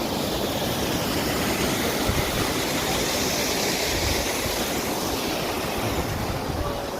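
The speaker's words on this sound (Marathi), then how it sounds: "ह्या पर्वत रांगांमधून हा धबधबा आलेला" A waterfall pouring down from the Sahyadri mountain range near Kondeshwar, a dense unbroken roar of rushing water that stays loud and even throughout.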